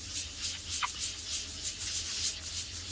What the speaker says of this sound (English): you're taking your medium grit and you are kind of like sanding all the